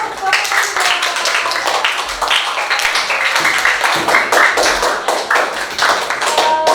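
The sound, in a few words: students clapping in class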